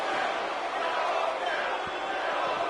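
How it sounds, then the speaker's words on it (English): A wrestling crowd in an Anchorage arena chants against Owens. The sound is a loud, dense, continuous roar of many voices that holds steady throughout, with no clear commentary on top. "Now you hear the Kill Owens kill chants from the crowd."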